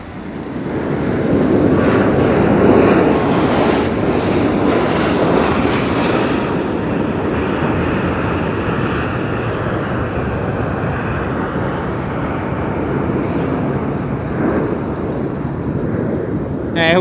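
Steady broad roar of a Southwest airliner at Las Vegas Harry Reid International Airport, loud and sustained throughout as the jet rolls or passes nearby, with no talk over it.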